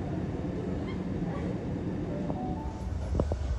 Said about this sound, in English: train to arrive on platform 2 goes to Waterfall